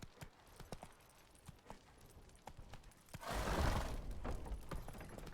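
Roach the horse clops along in The Witcher 3, soft hoofbeats ticking in a steady rhythm, then a louder rushing burst of game sound swells near the end.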